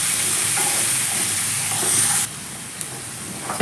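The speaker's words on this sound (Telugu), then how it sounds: "వీటన్నిటిని పచ్చివాసన పోయేదాకా వేపేసుకోవాలన్నమాట" Ginger and spices fry in a pan with a loud, close, continuous sizzle that drops suddenly to a quieter hiss partway through, with no one speaking.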